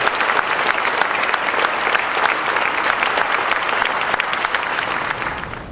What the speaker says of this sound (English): A round of applause to Attorney Maria Dorotea Ramos Balasbas Gan